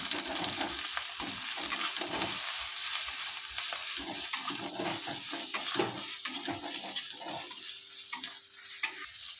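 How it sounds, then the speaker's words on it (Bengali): Spices with ground chili powder sauté in a pan for an egg kosha curry, giving a steady close sizzle broken by frequent scraping stirs of a spatula throughout. "দিয়ে দেব গুঁড়ো লঙ্কা ভালো করে মশলাটা কষিয়ে নেব"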